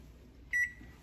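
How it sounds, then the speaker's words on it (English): A kitchen timer gives a single short electronic beep as it starts, clear and close, with only quiet room noise before and after. "I've got a timer set for 20 seconds."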